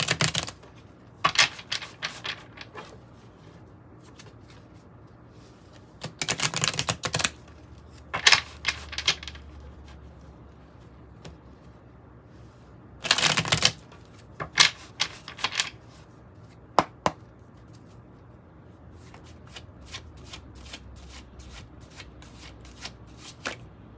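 An Oracle of Genetic Gifts card deck is shuffled by hand in several bursts of rapid riffling and flicking, separated by quiet pauses, close and crisp.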